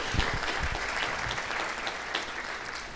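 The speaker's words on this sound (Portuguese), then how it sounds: "Vamos dar uma salva de palmas aqui para o Edson, né?" Audience applause fills a lecture hall on healthy habits, a steady dense wash of many hands clapping throughout, moderately loud and unbroken, with no talk over it.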